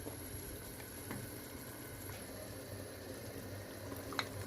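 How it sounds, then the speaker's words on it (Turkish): A faint, steady bubbling of strawberry jam syrup boiling in a pot, soft and continuous with occasional small pops and a low background hum. "Kıvam alana kadar güzel kaynatıyoruz şimdi."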